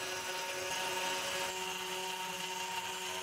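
A small homemade CNC mill cuts a piece of aluminium with a 3.2 mm end mill and water coolant, giving a steady, dense whine with tonal bands that stays at constant loudness, with no speech.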